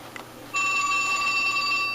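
A telephone starts ringing after a brief quiet moment, a loud, steady electronic trill that continues without pause and stands alone with no talking.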